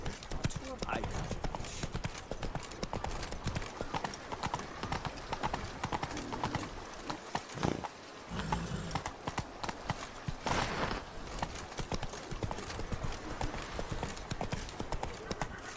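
Horse hooves clip-clop steadily in the video game The Witcher 3, a continuous rhythmic trot heard close up with talking over it throughout.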